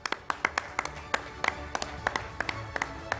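An audience at an awards event in Mumbai claps in a thin, scattered way, with sharp separate hand claps in an uneven rhythm and little sustained applause.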